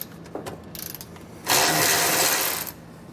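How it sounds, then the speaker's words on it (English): A ratchet fitted with an extension and a 13mm socket works a bolt loose behind a truck bumper, giving a few light clicks and then a loud, steady burst of rapid ratcheting lasting about a second, close by. "So I have an extension and a 13mm size socket."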